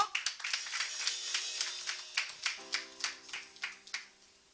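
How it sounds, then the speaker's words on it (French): Steady rhythmic hand clapping from a congregation at a French-language church service, crisp beats in a regular pulse, joined partway through by a sustained sung or instrumental tone. "Sous vos applaudissements"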